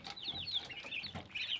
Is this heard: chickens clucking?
yes